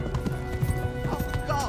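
A horse gallops at speed, its hoofbeats drumming in a quick, steady rhythm close by, with a rider's voice talking over the pounding.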